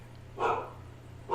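A dog barks twice indoors, with two short, moderately loud barks about a second apart over a steady low hum.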